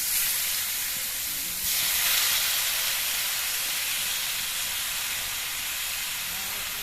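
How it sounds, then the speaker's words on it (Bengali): Pieces of sweet potato fry in ghee with a bay leaf, producing a loud, continuous hissing sizzle close up. The sizzle swells briefly early on and then holds steady throughout. "এবার রাঙা আলুগুলো নাড়াচাড়া করে একটুখানি সময় ভেজে নিতে হবে যাতে রাঙা আলু কাঁচা গন্ধটা চলে যায়"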